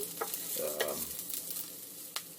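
Onions with frozen Brussels sprouts sizzling in a pan while a spoon stirs them, a steady soft hiss broken by a few sharp scrapes and clinks of the utensil against the pan.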